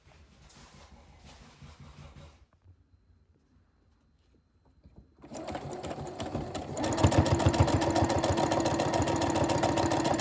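A sewing machine stitches lace onto a homecoming dress. Faint handling noise and a quiet pause come first, then the close, loud, rapid motor whir starts and keeps running to the end.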